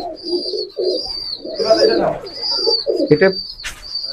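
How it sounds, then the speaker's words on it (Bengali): Black Salera Teddy pigeons coo in low, repeated throaty calls up close, with a brief flutter of wings as they are let go, while someone speaks briefly and a high steady whine runs behind. "এই পাঁচটা কালো কবুতরটা আমরা ছেড়ে একটু আপনাদের দেখাই"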